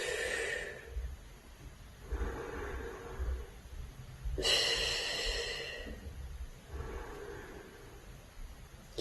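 Slow, audible breaths drawn in and pushed out during a Pilates mat exercise, a few long airy inhales and exhales in a steady rhythm, close and soft with no talking.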